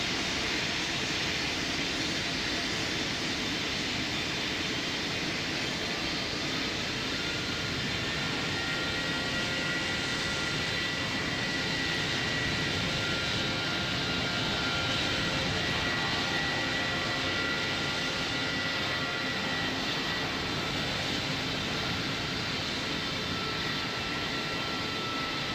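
In the Roblox game Pilot Training Flight Simulator, an airplane's engines roar steadily as it takes off, a continuous loud rushing hum that holds for the whole stretch without any talking.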